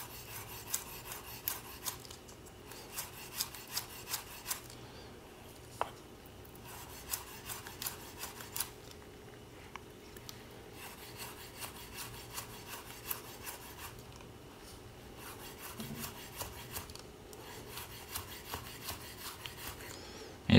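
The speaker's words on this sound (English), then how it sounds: "You just hold that green onion at an angle like this and then you just kind of cut it like this." A knife slices through green onion held at an angle, giving a steady run of short, crisp cuts against a board, close and fairly quiet with no talking.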